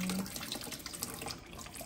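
Tap water runs steadily over ingredients being rinsed in a kitchen sink while preparing Sarawak laksa, a close, continuous hissing splash with small irregular spatters throughout.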